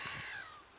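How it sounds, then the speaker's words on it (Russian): A brief, single crow caw cuts over a quiet marsh during a spring drake hunt, close and fairly loud before fading. "Опять вороны летят."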